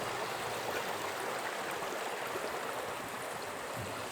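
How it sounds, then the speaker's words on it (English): Spring-fed water from a cave mouth pours steadily at Blanchard Spring in the Ozarks, a constant broad rushing and splashing that stays even and fairly close throughout, with no voices. "Well, this is Blanchard Spring. It flows like this year round."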